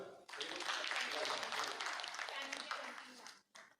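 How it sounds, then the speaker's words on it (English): Town hall audience at a bank applauding an employee from a diamond-ranked branch, a dense burst of many hands clapping together for about three seconds, then fading out. "Can we clap for her?"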